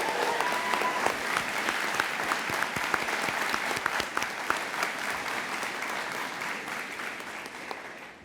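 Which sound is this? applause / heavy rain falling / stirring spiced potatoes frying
applause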